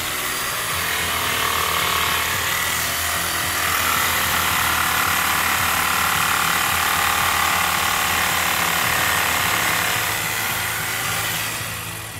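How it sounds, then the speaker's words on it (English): A horse sneaker's heel is trimmed down with a tool, producing a loud, continuous rattling, ratchet-like mechanical whir that holds steady throughout, close and alone. "So the next thing I'm going to do is trim off a little bit of the heel so there's less to grind."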